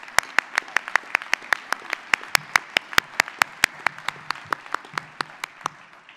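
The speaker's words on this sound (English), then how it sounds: "Let's give all of our speakers another round of applause." An inaugural university commencement audience claps for the speakers in a steady, evenly spaced rhythm of sharp, distinct claps, moderately loud against a quiet hall and tapering slightly toward the end.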